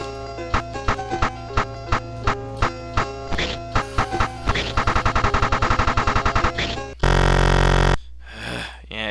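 The shooting range in the 1986 Exidy arcade game Chiller fires loud electronic gunshots, first as single spaced shots, then as a rapid machine-gun run, followed by a sustained harsh blast and game noise.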